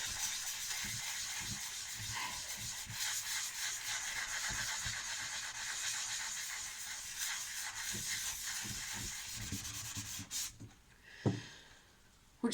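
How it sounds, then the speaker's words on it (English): Rusty armour is scrubbed steadily and continuously, a close, hissing rubbing texture that runs for about ten seconds before stopping, followed by a few faint knocks. "Once you've given it a good scrub,"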